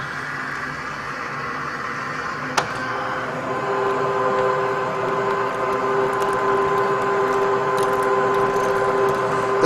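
Ridgid 1224 power threading machine running at 12 RPM, cutting pipe threads with a 714 die head: a steady mechanical whine and hum with a sharp click early on, continuous and close.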